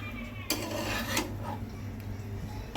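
A homemade dosa is flipped on a pan, with a sharp metallic scrape and clatter of a utensil against the pan, then a second scrape, over steady background hum.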